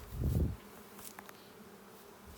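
Dark honey bees buzzing around an open wooden hive during an inspection, a loud close drone in the first half second fading to a faint steady hum.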